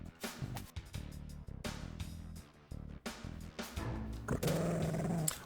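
Dogs growl and bark in a Spider-Man vs The Kingpin Sega CD game, loud clipped bursts in an uneven rhythm that end in a sustained low snarl, with no talk.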